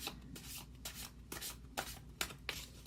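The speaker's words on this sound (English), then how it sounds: "It's just really hard for me to shuffle." Large, worn tarot cards are shuffled by hand in repeated soft riffling bursts, about six quick rustles spaced evenly, faint and close with no talking.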